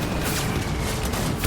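Rapid in-game gunfire from Death Stranding, a dense continuous barrage with heavy low booms, loud and close across the whole moment with no pause.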